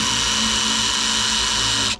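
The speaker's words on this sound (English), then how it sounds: "If you put the drill on reverse, or the impact driver on reverse, and you put pressure down" An impact driver drives a screw into timber end grain during an off-grid cabin build, with a steady high motor whir lasting about two seconds before it abruptly cuts off.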